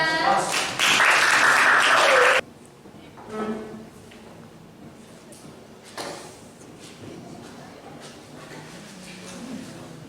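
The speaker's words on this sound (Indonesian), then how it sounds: "Beri aplaus untuk kelompok 2." Classroom applause for a student group bursts out loudly for about two seconds and then stops abruptly, followed by quieter room shuffling and scattered thumps.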